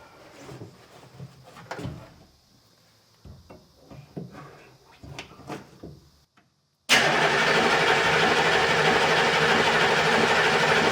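A Humvee with an oil leak sits through clanks and handling noises, then its engine fires abruptly and runs at a loud, steady roar close by.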